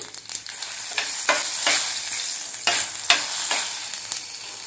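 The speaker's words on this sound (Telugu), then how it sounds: "ఇప్పుడు తాలింపు గింజలు వేసుకుందామండి" Mustard and other tempering seeds with two torn dried red chillies frying in hot oil for an old-style sour gongura dish, a steady close sizzle broken by several sharp crackling bursts and stirring scrapes, with no talking.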